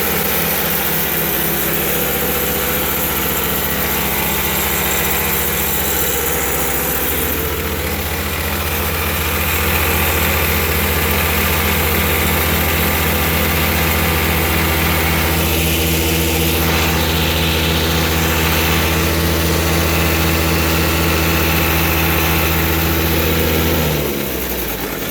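A Princess Auto reversible plate compactor runs steadily, its small engine droning loud and close with a low pulsing throb that rises slightly in pitch partway through and holds until it cuts off near the end.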